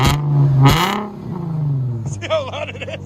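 A Nissan 350z 3.5L V6 revs loudly through its exhaust with short throttle blips and a rising, raspy roar, with people talking over it.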